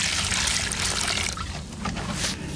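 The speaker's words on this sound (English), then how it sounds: "Add the water to it." Water pours and trickles into a mortar mix for a foundation repair, a steady splashing gush up close that fades into softer dribbles, with no voices over it.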